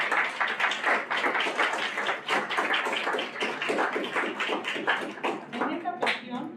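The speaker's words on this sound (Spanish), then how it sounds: "Un aplauso, por favor." Audience applause at a book presentation on Chinese immigrants in Mexico: dense, steady clapping from a crowd for about six seconds, fairly loud and even, tapering slightly at the end.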